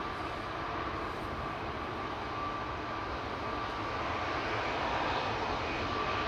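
Steady, loud jet engine roar of an Airbus A220 at Amsterdam Schiphol Airport, a continuous broadband rumble with a faint tonal whine, no voices present.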